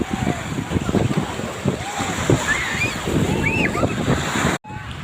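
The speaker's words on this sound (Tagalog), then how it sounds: "Ang lakas ng alon, oh." Strong surf roars continuously on the beach at Morong, Bataan, with splashing and wind buffeting the microphone, while voices call out over the waves before a brief cut near the end.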